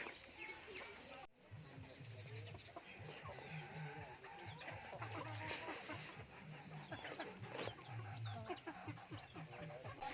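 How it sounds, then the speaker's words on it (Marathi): Chickens recovering from CRD respiratory disease cluck and chatter steadily nearby, including young roosters, while someone talks over them. "हे सगळे आता मोठे झालेत आणि हे कोंबडे आहेत ते आरवायला पण लागलेत"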